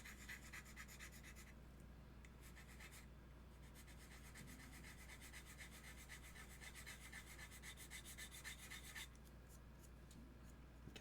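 A Nicholson bastard file rasping against metal to cut a bevel, with a continuous fast rubbing scrape that runs evenly the whole time, close up, alongside a steady low hum.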